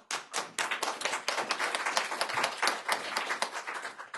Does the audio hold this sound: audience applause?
yes